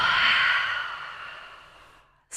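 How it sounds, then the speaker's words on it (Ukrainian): A long, slow exhale during a pelvic floor breathing exercise, a breathy airy rush that starts strong and fades over about two seconds, followed by the start of a sharp inhale. "І видихаємо, наче видавлюємо пасту."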